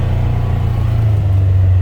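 A Polaris Ranger 1000 XP utility vehicle on a test drive, its engine a loud, close, steady rumble that rises slightly in pitch as it drives.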